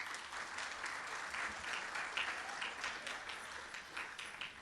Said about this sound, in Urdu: ان دونوں کا پرتپاک تالیوں سے خیر مقدم کیجیے۔